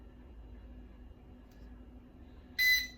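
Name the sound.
heat press timer beeping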